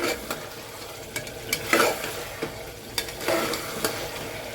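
Chicken and spices being sautéed in a pan for arbi chicken curry, a soft continuous sizzle punctuated by repeated spoon scrapes and stirring knocks at irregular intervals, close up with no speech.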